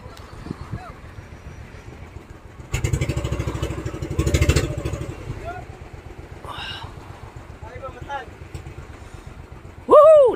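A motorcycle engine that would not shut off, running at a low steady idle beneath people talking, with a louder rough burst mid-way and shouts near the end.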